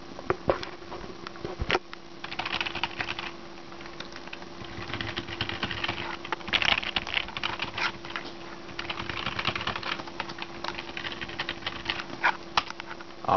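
Rapid, irregular clicking of a computer keyboard being typed on while hooked up to a TI-89 Titanium calculator, close and fairly quiet over a faint steady hum.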